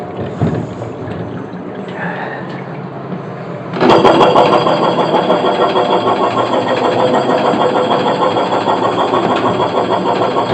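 A dairy milking system pump runs during a chlorine rinse of the milking claw, starting abruptly partway through and continuing as a steady, loud mechanical hum with a rhythmic rattle after a quieter stretch of room noise.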